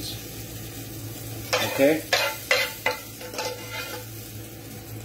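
Onions hitting a hot pan after lamb's liver and bacon give a run of loud sizzling bursts with stirring scrapes, easing into a steadier frying hiss, and a voice speaks a single word.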